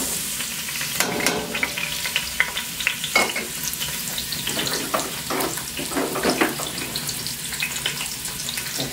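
Onion, pepper and garlic fry in oil for goulash with a steady close sizzle, scattered clicks and scrapes of stirring running through it.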